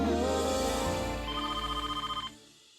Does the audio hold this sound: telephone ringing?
yes